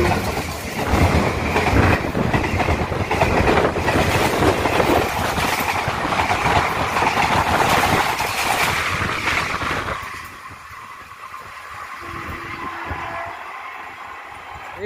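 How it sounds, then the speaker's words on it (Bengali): The Balurghat–Nabadwipdham Express passes close by at a railway crossing, a loud, steady rumble and clatter of wheels that holds for about ten seconds and then drops away to a quieter hum. "অপোজিট সাইড থেকে ট্রেন আসবে বালুরঘাট নবদ্বীপধাম এক্সপ্রেস"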